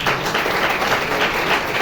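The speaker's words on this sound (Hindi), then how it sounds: "भाई साहब, एक बार जोरदार ताली बजाओ।" A loud, dense burst of clapping from an audience, steady and sustained throughout, with no talk over it.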